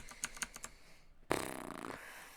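Several faint, close clicks of typing on a computer keyboard come in a short quick run, followed by a louder sustained rushing noise; the room is otherwise quiet.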